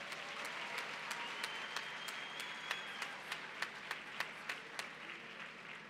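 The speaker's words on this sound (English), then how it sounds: "can we please give all the winners another round of applause?" A ceremony audience at a science month launch applauds the prize winners, a faint, distant wash of clapping with a few sharper, louder claps repeating in a steady rhythm over the crowd.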